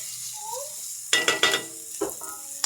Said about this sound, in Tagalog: Lalagyan natin yung ating bawang at sibuyas. Ayan konting gisa-gisa lang